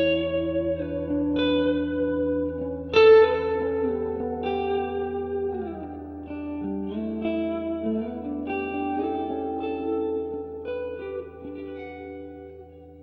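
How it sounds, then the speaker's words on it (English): Electric guitar through a Mesa Boogie Roadster amplifier with its tube-driven reverb turned up plays clean sustained notes and chords, each ringing out in a long, lush reverb tail, with no talking. "One of the key features I want to come back to is the tube-driven reverb in this amplifier."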